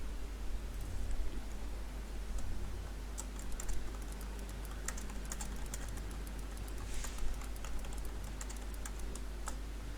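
Typing on a computer keyboard: a steady run of light, quick key clicks over a low constant hum, faint and close, with no voices.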